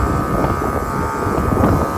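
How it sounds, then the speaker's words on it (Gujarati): Strong wind sweeps across an open village farm field and buffets the microphone with a constant, close, low rumble for the whole stretch. "પવન બહુ છે"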